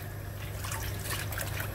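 Cold water swirling and trickling in a bowl as sheets of pastry dough for Turkish su böreği are dipped in, a brief steady wet wash with no talk.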